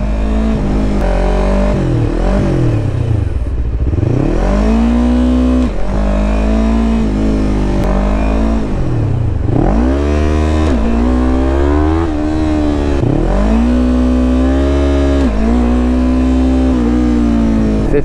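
A Yamaha R3 motorcycle engine revs hard for a clutch-up wheelie: several loud, close throttle blips climb and drop in pitch, then a sustained high rev, with no talking.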